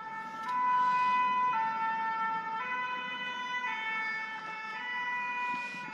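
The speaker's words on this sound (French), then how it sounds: "Pompiers qui sortent." Fire engine sirens wail loudly as firefighters pull out of the station, a two-tone pitch alternating roughly every second over a steady road rumble, with no voices.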